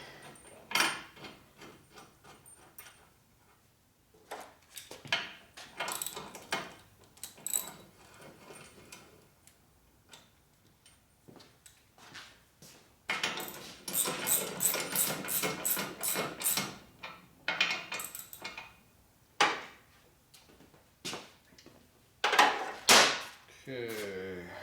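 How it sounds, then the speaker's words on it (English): Bolts being tightened on the rear shocks of a 2004 Harley FLHT Twin Cam touring motorcycle, giving bursts of rapid ratchet clicking with pauses and some clinking of tools between runs, fairly close. "let's get the shock bolts in first"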